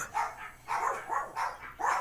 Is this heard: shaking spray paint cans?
no